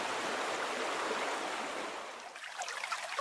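A wide river flows with a broad, rushing wash of water, fairly close and steady before easing a little near the end, with no voices.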